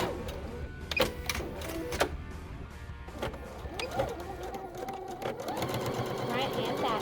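A sewing machine back-stitches along the edge of a fabric bow, running in short bursts of rapid mechanical whirring and ticking while someone talks over it.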